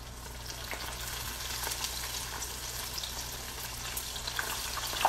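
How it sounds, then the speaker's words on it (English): Batter-coated oysters deep fry in hot canola oil, a steady dense sizzle and crackle that holds close and even throughout with no voices. "we're putting them in our hot oil"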